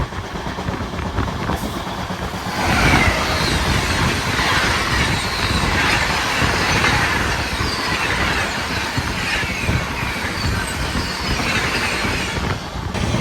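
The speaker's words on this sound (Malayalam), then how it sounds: "ഇപ്പോൾ പോയത് മറ്റേ മുംബൈ LTTക്ക് കോയമ്പത്തൂർ വന്നൊരു ട്രെയിനാണ് ഇപ്പോൾ പോയത്" A Coimbatore–Mumbai LTT express train passes on the Bengaluru–Bidar route, its loud, continuous rolling and rattling wagon noise holding steady for several seconds, with no talk over it.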